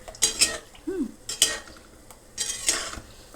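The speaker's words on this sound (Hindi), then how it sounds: "इस तरह से तेल घुमाते रहेंगे, हिलाते रहेंगे, मगर ध्यान से कि इसको कड़छी ना लगे।" A ladle clinks against a pot as gulab jamun are stirred in hot oil, several sharp metallic scrapes and taps spaced a second or so apart over a soft frying sizzle.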